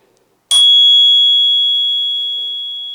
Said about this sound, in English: possibly the nicest bell I've ever seen on an e-bike